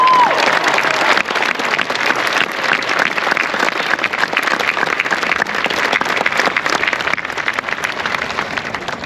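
A graduation ceremony audience applauds in a large hall. Dense, sustained clapping from many hands fills about nine seconds without a break, loud and even throughout, and no one speaks over it.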